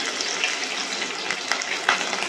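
Curry leaves, chopped garlic, green chili, mustard seeds and cumin sizzling in hot oil on low heat for a dal tempering, a steady close hiss with small pops and crackles, with a voice talking over it.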